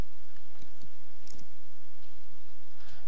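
Computer mouse clicks during pattern-design software work, a few sparse, sharp clicks close by over a quiet background, with no talk.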